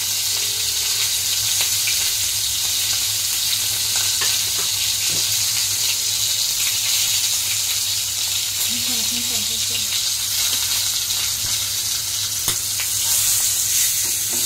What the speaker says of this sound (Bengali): মাছটা বেশি ভাজবো না